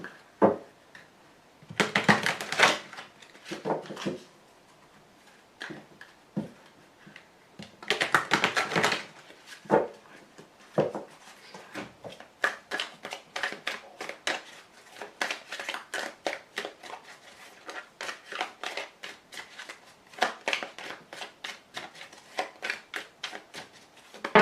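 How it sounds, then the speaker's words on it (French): Oracle cards shuffled and drawn by hand, a run of dry papery flicks and riffles in uneven bursts, close and fairly quiet, with louder rustling flurries near the start. "je vais tout de suite tirer la carte de l'oracle bleu supplémentaire"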